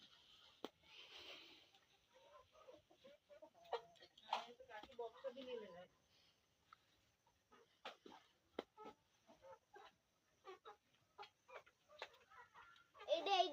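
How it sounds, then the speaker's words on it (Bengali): Chickens clucking and squawking at close range in scattered bursts, with people talking in the background. "আসো দেখে তো মুরগি সব আইছে"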